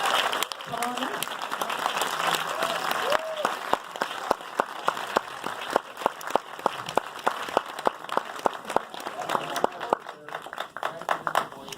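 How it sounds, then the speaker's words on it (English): An audience applauds as the cast and writer-director of Now Apocalypse walk on for an Outfest Fusion Q&A, steady clapping with sharp individual claps standing out, crowd noise and some voices underneath throughout. "You heard the wonderful applause."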